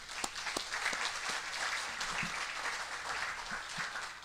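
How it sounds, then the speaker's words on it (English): An audience claps for graduates of a service dog class, a steady rain of many hands with a few sharper individual claps standing out near the front, sustained for several seconds without speech. "So I'm going to give you a big round of applause because even through COVID"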